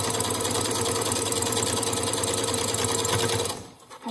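A home sewing machine back stitches the hem of a fabric face covering. It gives a fast, even, loud mechanical whir with rapid stitching rhythm, close up, and stops abruptly near the end.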